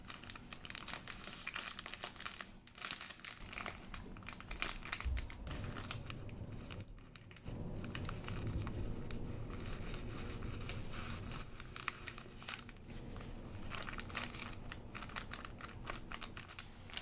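A tissue is crinkled, folded and handled up close in a quiet ASMR setting, with dense crackly rustling that comes in bursts and short pauses.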